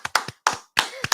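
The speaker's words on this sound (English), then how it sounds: "Round of applause to our sponsors." Only a handful of separate, sharp hand claps ring out close and loud with gaps between them, a thin round of applause for event sponsors rather than a full crowd.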